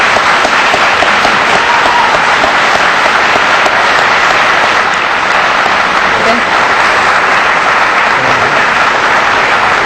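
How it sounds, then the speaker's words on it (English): An audience at a 2006 Allen County sheriff's debate gives the candidates a loud, dense round of applause that holds steady throughout, with crowd noise mixed in. "Audience, why don't we give these candidates a round of applause?"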